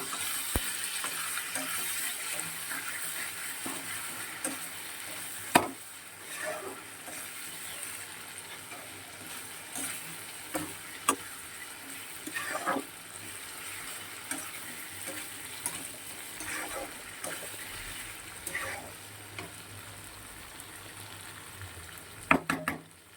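Potato, onion and tomato frying with ginger garlic paste, dried red chillies and cumin in a pan, a steady soft sizzle with occasional scraping stirs and clinks of a spoon against the pan, close and without talk.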